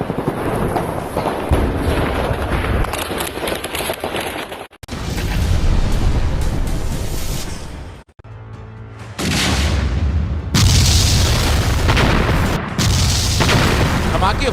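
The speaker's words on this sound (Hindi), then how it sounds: "धमाके होते जा रहे हैं" Russian air strikes on Mariupol, Ukraine, make a series of heavy booms and rumbling blasts that come in long, loud, dense bursts with abrupt cuts between them.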